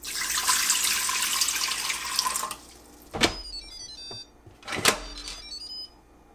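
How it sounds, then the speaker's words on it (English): Water pours steadily from a tap into an Instant Pot Duo Evo Plus pot for a couple of seconds, then stops. Two sharp metallic clanks follow, each ringing briefly. "Pour in 3 cups or 24 ounces of water."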